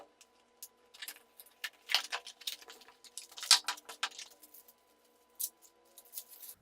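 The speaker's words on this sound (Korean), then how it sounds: "악세사리 패키지에는 어떤 제품들이 들어있는지 지금 한번 뜯어보겠습니다" Crinkling packaging and plastic bits rustle and click in sporadic bursts as a Zoom APH-1n accessory package for the H1n recorder is opened close up, with quiet gaps between handling sounds.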